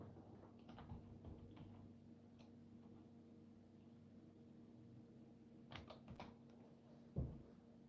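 Faint keystrokes on a computer keyboard, in two short bursts of quick taps separated by a quiet stretch, followed by a single sharper knock near the end.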